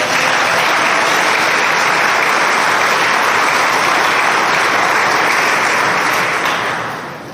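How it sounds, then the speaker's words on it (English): Sustained loud applause from a crowd at a club grand reopening and ribbon cutting, a steady wash of clapping for about seven seconds that fades near the end. "Please let's give them a round of applause"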